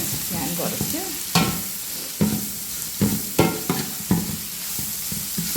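Onions fry and sizzle in a pan for cauliflower curry, a steady close hiss broken by several sharp scraping stirs of a spoon against the pan.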